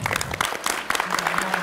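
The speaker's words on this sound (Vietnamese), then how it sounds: "vỗ tay thật lớn được không ạ?" An audience at a Vietnamese television show applauds, dense rapid clapping throughout the short stretch, loud and close with a faint crowd murmur.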